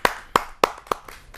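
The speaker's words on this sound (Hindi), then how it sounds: "उनका जोरदार तालियों से स्वागत करता हूं।" Sparse hand claps from an audience at a Hindi poetry gathering (kavi sammelan) greeting a poet, about five sharp separate claps spaced roughly a third of a second apart, fading toward the end.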